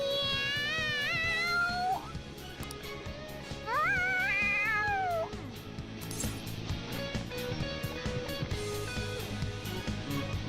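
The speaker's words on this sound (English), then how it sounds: "The cat's acting awfully excited." Cat meowing excitedly in the Persona 5 video game, several rising, wavering meows in two bursts over steady game music, loud and close.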